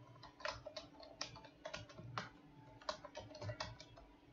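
Computer keyboard typing for a commit message in a code editor, a steady run of quick, fairly close key clicks in uneven bursts, alone without talk.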